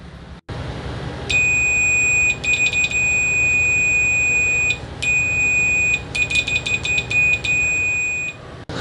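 An Etekcity MSR-R500 multimeter gives a continuity beep: a high, piercing tone held for seconds, broken by a short gap and then resumed, with faint clicking beneath.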